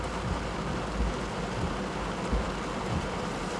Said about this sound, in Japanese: 雨の音がどれぐらいかっていうぐらい